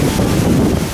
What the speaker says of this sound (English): what do you think about all this wind?